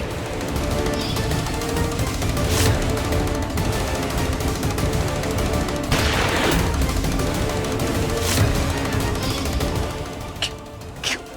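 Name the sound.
gunshots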